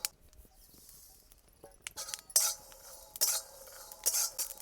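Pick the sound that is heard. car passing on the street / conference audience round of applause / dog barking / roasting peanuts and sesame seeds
roasting peanuts and sesame seeds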